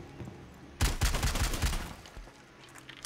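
Rapid gunfire in the video game Rainbow Six Siege while shooting open walls on the Theme Park map, a quick burst of several close punchy shots lasting about a second, then fading.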